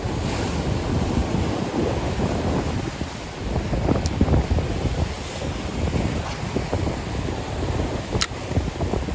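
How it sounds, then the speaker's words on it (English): Large, heavy ocean waves surge and crash continuously against shoreline boulders during a bass fishing outing on a rocky coast, loud and close, with strong wind buffeting the microphone throughout and no talking. "Got to be so careful with the waves though, because they're massive in here."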